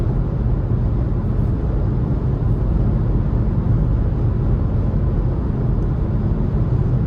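Steady, loud broadband wind roar fills the cabin of a 2026 Nissan Kicks SR Premium while it drives on a freezing day, with a constant low rumble underneath and no voices.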